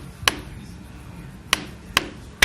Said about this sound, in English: I'm gonna push it with a hammer.